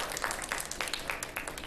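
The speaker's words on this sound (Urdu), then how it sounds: "بہت ساری تالیاں" Audience applause at a live television show event, a moderately faint patter of hand clapping spread across the room, steady and continuous throughout.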